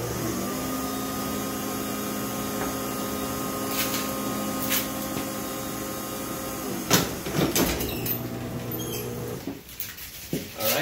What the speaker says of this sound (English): so that we get to test the garage door opener as well